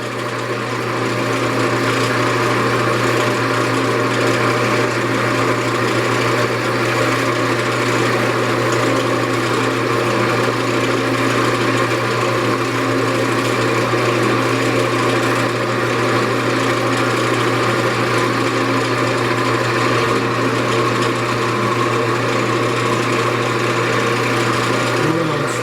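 A woodturning lathe spins a spalted pecan vase during friction polishing, giving a loud, steady motor hum with a constant drone that runs unbroken from start to finish, with no talking.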